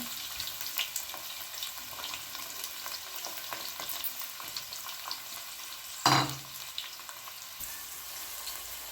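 Onions fry in oil with cloves and cardamom for a seeraga samba veg biryani, crackling steadily while a spoon stirs them, with a brief louder clank of utensil on pot near the end.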